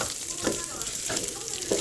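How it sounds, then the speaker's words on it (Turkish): Steady sizzling of lentils sautéing in a pot, with a few soft scraping stirs spaced roughly evenly apart, close and moderately loud. "Ama karıştırın sürekli çünkü mercimek hemen dibine tutuyor."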